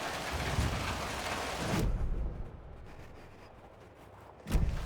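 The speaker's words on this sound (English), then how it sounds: "Wonderfully rainy." Rain pours in the video game Alan Wake 2 as a dense, even hiss, then thins to a quieter patter, broken near the end by a low, rumbling thump; no one speaks.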